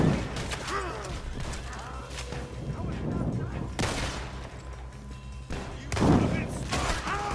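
Gunfire in Red Dead Redemption 2, loud shots and bursts scattered through the stretch with sharp impacts near the four- and six-second marks, under a player's talk.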